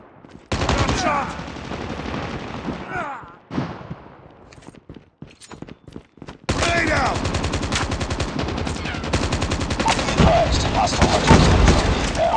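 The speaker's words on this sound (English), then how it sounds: "Gunshot!" Call of Duty Mobile gunfire: rapid automatic bursts and single shots crackle densely, with a brief lull of scattered shots midway before heavy sustained firing resumes, loud and close, with game voice callouts mixed in.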